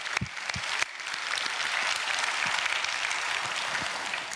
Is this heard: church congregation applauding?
yes